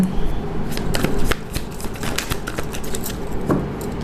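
Tarot cards shuffle with a rapid, continuous rustle of flicks and light snaps, close and fairly loud, with no talking over it.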